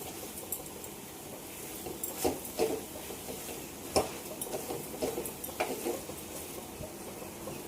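Coconut filling for khobravadi, a Maharashtrian coconut sweet, is stirred and sautéed in a pan, a soft steady sizzle broken by scattered scraping clicks of the spoon, close and fairly quiet with no talking.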